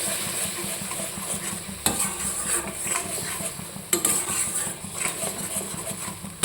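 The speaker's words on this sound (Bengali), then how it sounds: "এই জলটা শুকনো হওয়া অবধি মশলাটাকে কষিয়ে নেব" Spice paste (masala) for a prawn curry being stirred and fried in a pan over a raised gas flame, soft continuous scraping and sizzle with a couple of sharper clanks of the spoon against the pan.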